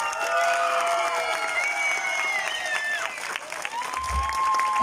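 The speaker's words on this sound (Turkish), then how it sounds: "Hep birlikte bir alkış alalım." Applause from an audience at a show by an African fire-performance group, broad clapping with cheers, whistles and shouted voices rising over it, sustained and lively throughout.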